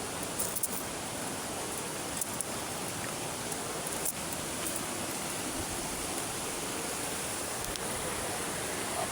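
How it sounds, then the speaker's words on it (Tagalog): Water from the Bagsit river rushes steadily down a mountain stream that spills like a small waterfall, a dense, even hiss with no break and no voices. "sapa dito parang falls"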